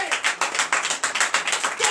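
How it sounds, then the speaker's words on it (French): Rhythmic group clapping at a Friday night deliverance and prophecy service in Comè, Benin, with steady, loud, evenly spaced claps and voices mixed in. "Donnez l'acclamation à TDV."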